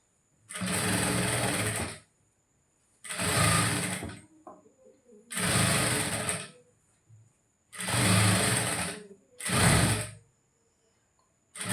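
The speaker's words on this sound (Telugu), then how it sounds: "అయిపోయింది బ్యాక్ పార్ట్ కుట్టడం" A sewing machine stitches the back part of a blouse in five loud, close bursts of rapid whirring, each a second or two long. Short pauses fall between the bursts, and quieter fabric handling and mechanism clicks sound during the gaps.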